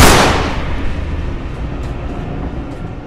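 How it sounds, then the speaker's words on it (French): A single loud gunshot in a film scene aboard a moving train, a sharp burst at the start that decays into the steady rumble of the rail cars. "Un ultime coup de feu résonne"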